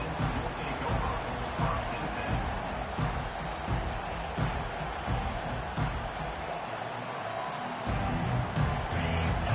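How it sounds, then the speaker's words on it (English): A stadium crowd at an American football game keeps up a loud, steady roar throughout, with a commentator's voice talking over it. "This crowd bringing an ear-splitting welcome to their visitors"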